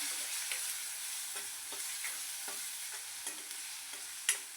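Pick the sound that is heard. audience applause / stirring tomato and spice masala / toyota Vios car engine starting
stirring tomato and spice masala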